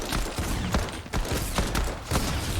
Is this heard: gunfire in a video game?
yes